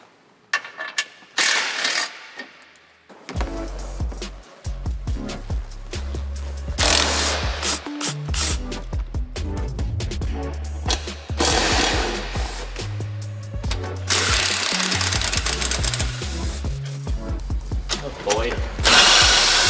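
Bolts are worked out of a Ford Bronco steering column with a ratchet, giving repeated clicking and metallic rattling up close, in bursts over a workshop background with little talk.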